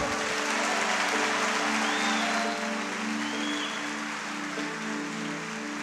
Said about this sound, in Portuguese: Vamos aplaudir mais forte ao Senhor.